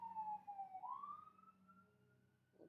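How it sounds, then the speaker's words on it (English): An ambulance siren wails in the distance, its tone sliding down then rising and holding as the vehicle passes, faint and alone. "Let's wait for the ambulance to pass."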